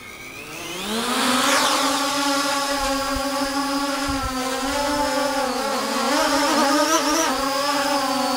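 A 250mm quadcopter drone's motors spin up to a steady high-pitched whine that rises quickly and then holds, with rich harmonic buzzing and slight pitch wobbles, loud and close, with no one speaking.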